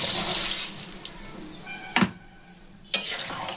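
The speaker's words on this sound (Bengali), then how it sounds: "এখন এই মিক্সি ধোয়া জলটুকু দিয়ে দেব, দিয়ে দিলাম মিক্সি ধোয়া জল।" Rinse water from a mixer-grinder jar is poured into a cooking pot of vegetable shukto, a splashing, gurgling flow with two sharp clanks of the jar against the pot.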